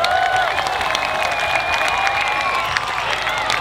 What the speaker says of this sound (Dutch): laten we even applaus geven voor Zomerspelen TV